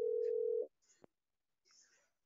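A telephone call on speakerphone sounds one steady ringback tone of a moment's length, then cuts off, followed by a brief click and faint background noise.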